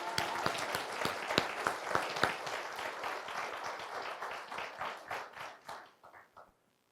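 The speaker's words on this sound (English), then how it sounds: "Can we please recognize this fantastic team with a round of applause?" Audience applause for a city team at the Citrus Heights State of the City event, with sharp individual claps over a dense crowd clapping that tapers and fades out near the end.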